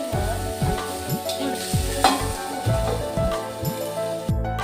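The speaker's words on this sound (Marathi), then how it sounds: "आता आपण थोडीशी कैरी परतूया." Totapuri raw mango pieces are sautéed in a pan, with a steady sizzle under repeated, rhythmic scraping and clattering strokes of a spatula, loud and close, with no voices.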